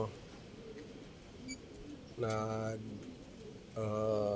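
Two low, sustained cooing calls from domesticated lovebirds come in near the end over a quiet background, and a voice is heard talking before them.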